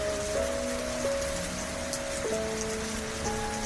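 Steady rain patters densely on a surface, a constant hiss with faint tonal hums running underneath.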